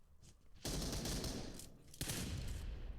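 Two heavy blasts of grenade explosion and gunfire in PUBG Mobile, the first at about half a second and another at two seconds, each followed by sustained loud rumbling fire.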